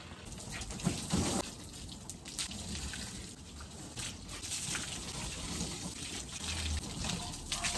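Water sprays onto the bodywork of a microcar as it is rinsed during a wash, making a steady gushing and pattering hiss up close with small fluctuations and no voices.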